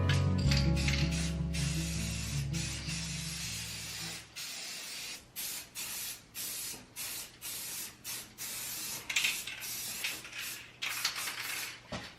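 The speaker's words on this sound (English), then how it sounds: "Now it's time for our matte coffee bean spray paint." A can of matte coffee-bean spray paint hisses in short, steady bursts, each burst cut off by a brief pause, with a low hum at the start that fades after a few seconds.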